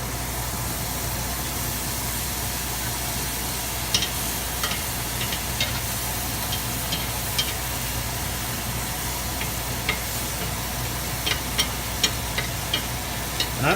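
Butter sizzling and frying on a hot, oiled, smoking griddle, a steady close crackle with a constant hiss and scattered small pops throughout, no talking.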